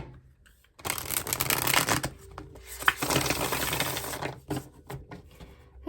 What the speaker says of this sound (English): let's give this a quick little shuffle here